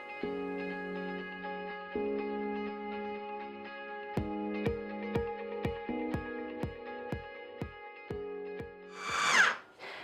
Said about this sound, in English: I'm then going to whiz this up until it's really super smooth